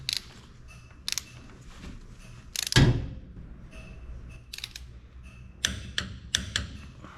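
Socket ratchet turning bolts on an old Allis Chalmers grader, with clusters of rapid clicking bursts separated by pauses and one louder clank partway through, close and alone.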